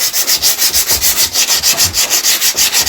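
Steady back-and-forth sanding of rust off an old washing machine with 240-grit sandpaper, a close, loud, rhythmic scratching rasp repeating about every quarter second with no talk.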